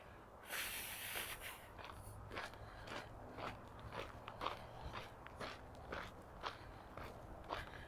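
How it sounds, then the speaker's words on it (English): Footsteps crunching through dry fallen leaves on a path along a creek in autumn, a steady walking rhythm of crisp close crunches, fairly quiet with no talking. "I kind of like crunching noises as I walk."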